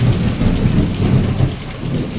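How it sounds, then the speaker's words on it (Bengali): Heavy rain pours down steadily during an afternoon storm with frequent lightning, while low, rumbling thunder rolls underneath, loud and close throughout. "প্রচুর পরিমাণে বিদ্যুৎ চমকাচ্ছে আর সেই পরিমাণে আকাশ ডাকছে"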